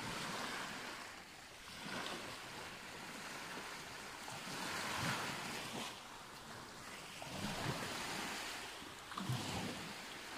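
Sea waves washing onto a beach, a steady broadband rush with swells breaking every couple of seconds, steady wind buffeting the microphone, and no voices.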